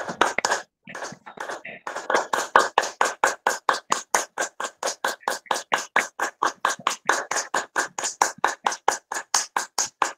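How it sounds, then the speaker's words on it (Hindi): Bare hands clap in a steady, fast rhythm for about ten seconds during a yoga session, the sharp claps close and loud with only a brief pause near the start and no talking. "देखो हो गई सामान्य ताली।"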